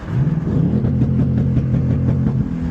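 A 2025 Ford Mustang GT V8 revs hard at night, a deep loud rumbling exhaust with a rapid rhythmic burble of pops and crackles, heard close from inside the car.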